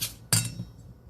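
Lemon juice glaze is stirred in a glass bowl, giving one sharp clink of utensil on glass followed by a short scraping swirl, close and fairly loud, then quiet.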